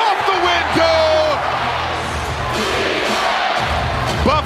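A basketball arena crowd roars and cheers at an NBA game, the Minnesota Timberwolves hosting the Atlanta Hawks, a loud continuous swell of many voices with whoops and shouts throughout.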